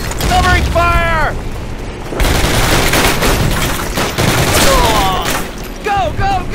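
Classic Call of Duty battle with continuous gunfire and booming mortar explosions, dense and loud throughout, while soldiers shout over the fighting.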